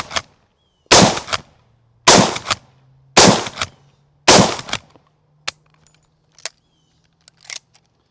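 Loud, close gunshots from a low-recoil gun in a Western-themed video game: five heavy evenly spaced blasts about a second apart, then several quieter, sharper shots trailing off, with a faint steady hum underneath.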